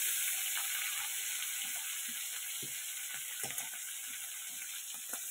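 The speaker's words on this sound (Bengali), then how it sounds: "এই যে কাতলা মাছগুলো এবার ভেজে নেবো।" Pieces of katla fish fry in hot oil in a pan, giving a steady hiss with scattered pops and crackles throughout, close and fairly loud.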